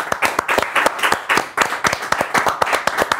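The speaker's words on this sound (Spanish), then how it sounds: "Un aplauso para Marito." Steady, lively hand clapping from a small group, close and continuous with a brisk uneven rhythm throughout.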